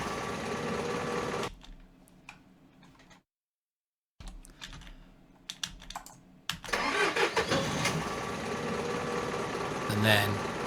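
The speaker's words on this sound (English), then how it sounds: "It has a sort of ignition sound at the start." A car engine starts with an ignition crank, then settles into a steady running rumble, following a short gap of silence; the sound is fairly loud and close, with no talking.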